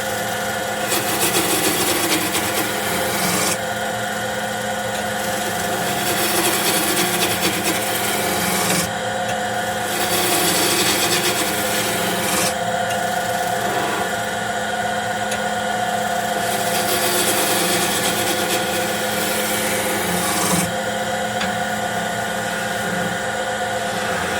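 A wood-turning tool cutting long, thick shavings on a lathe while shaping a wooden mallet, making a loud, continuous rasping hiss with short pauses and shifts in texture as the cut moves.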